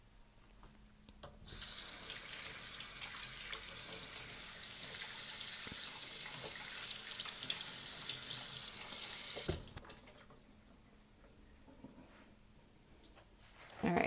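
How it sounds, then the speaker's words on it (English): Hands washed under a running tap at a sink: a steady, close rush of water for about eight seconds, then it shuts off, leaving quiet room tone with faint handling sounds. "All right, so just gave my hands a quick wash."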